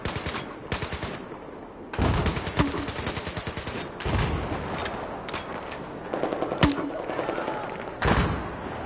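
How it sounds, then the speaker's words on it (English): Rapid machine-gun fire in Battlefield 4 comes in repeated bursts of sharp shots, close and loud, broken by brief pauses and punctuated by heavier thumps. "Shoot him from over here."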